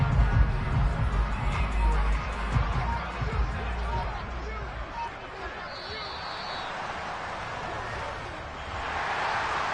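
A home stadium crowd applauds and cheers in an American football video game against the Seahawks, a broad, steady wash of noise under continuous commentator speech.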